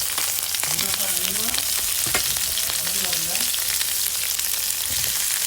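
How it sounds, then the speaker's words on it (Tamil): Steady, loud sizzling of chopped brinjal (eggplant) pieces sautéing in a pan, with occasional stirring scrapes and clinks; no talking. "நறுக்கி வச்ச கத்திரிக்காய் சேர்த்து நம்ம வதக்கி வச்சுக்கலாம்."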